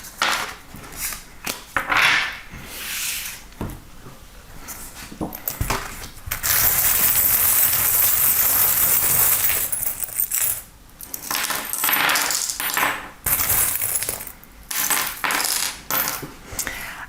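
Small fortune-telling charms drop and scatter onto a surface in repeated bursts of light clinking and rattling, close and fairly loud, with short quiet gaps between the bursts.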